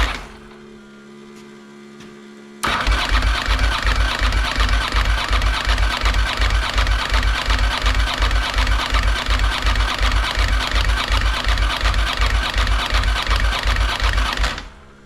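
A 1992 Ducati 900SS engine is turned over on the starter with the ignition off, a sudden loud, rapid, even chugging cranking that runs steadily for about twelve seconds and then stops.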